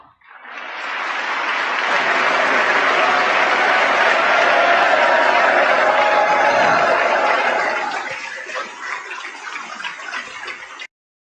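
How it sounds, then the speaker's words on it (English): Audience applauding a speech by Netanyahu, the clapping swelling quickly to a loud, sustained roar, then thinning into scattered claps before stopping abruptly. "all those clowns applauding are some of the most unscrupulous, easily corrupted motherfuckers you've ever met in your life"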